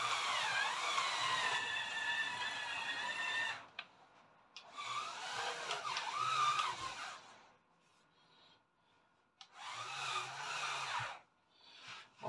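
A plastic-jointed RC rock crawler model, Happy Build YC-23029 Rock Gigant, drives in short bursts, its small electric motor whining and gears buzzing loudly, then pausing to near-silence between runs.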